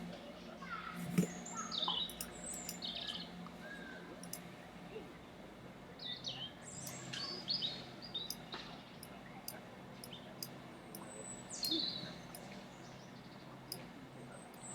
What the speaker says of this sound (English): That's my bird friend. Sings a lot like that.